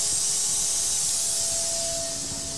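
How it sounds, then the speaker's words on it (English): A pneumatic valve on a zero point clamping system on a 5-axis machining center releases compressed air in a steady, close hiss that tapers off slightly over a couple of seconds, with no talk. "there is a pneumatic valve that I can just open and close"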